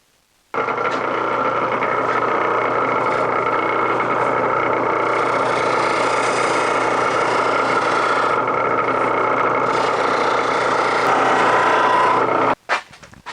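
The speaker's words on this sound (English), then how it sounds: "I'm going to take this over to my buffing wheel and buff the exterior with carnauba wax" A motorized buffing wheel polishes the exterior of a wooden bowl with carnauba wax, a loud continuous whirring hum with rubbing friction that runs steadily for about twelve seconds before cutting off abruptly.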